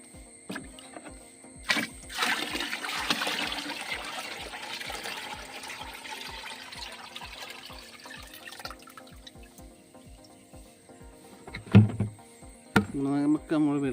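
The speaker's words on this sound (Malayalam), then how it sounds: "നെമക്ക വെള്ളം ഒഴിച്ച് നമുക്കൊന്ന് കലക്കിയെടുക്കാം." Water is poured into a plant slurry and stirred in, giving a soft, continuous trickling and sloshing with scattered taps and knocks, moderately close, followed by a few louder splashy stirs near the end.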